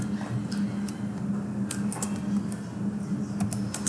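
Fast, light clicking of a computer keyboard as HTML code is typed into Notepad, a steady run of close keystrokes over a faint low hum.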